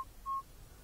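Minelab CTX 3030 metal detector signalling a silver coin during a park hunt: a short high beep followed by a longer steady tone, alone and fairly clear.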